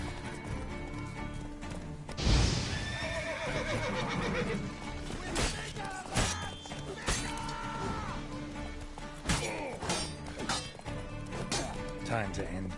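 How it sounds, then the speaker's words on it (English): In The Witcher 3 game, a horse whinnies loudly and hooves clip-clop at a gallop, with thuds and crashes of combat mixed in and someone talking over the action throughout. "Come on, Roach."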